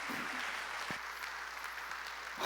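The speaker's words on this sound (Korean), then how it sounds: "하나님께 박수 칩시다." Congregation applauding inside a church during a worship service, a steady even wash of clapping that runs the whole time, with a few sharper claps standing out briefly.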